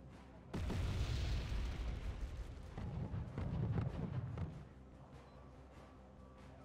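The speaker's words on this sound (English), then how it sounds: "There's the bombs" Bombs exploding in the war strategy game Wargame: AirLand Battle, heard as a deep, rolling rumble of blasts that swells for several seconds and then fades to a quieter background, with no voices.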